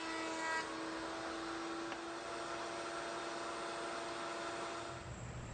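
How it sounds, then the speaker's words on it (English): A router table fitted with a roundover bit eases the top edges of wooden chair slats, producing a steady, even whine close by that holds throughout with no voices. "I came over to the router table where I had a roundover bit set up, and I'm just easing the edges on the top of the slats"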